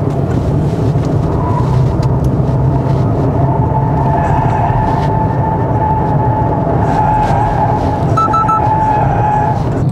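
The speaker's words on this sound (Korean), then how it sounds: "배기음만 들으면은 주행할 때 이게 좀 소리가 큰 게 아닌가 라고 생각이 들 수가 있지만" A 2025 Audi Q8 55 TFSI quattro SUV drives along with a steady low engine and exhaust drone, joined by road and tire rumble inside the cabin, continuous and moderately loud with no talking.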